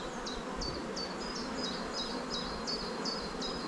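Honeybees swarm and buzz around a beehive in a steady, dense drone, with repeated short chirping calls rising above it at a regular rhythm throughout.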